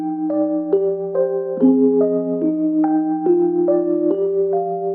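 Rhodes electric piano playing sustained chords with a warbling vintage chorus and cassette-tape effect, low end filtered out; steady, mellow chord changes roughly every second, alone with no talking.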